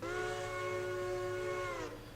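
A single long steam whistle blast from a locomotive in the Railroader game, bright and harmonic, holding steady for about two seconds before cutting off cleanly, with no speech.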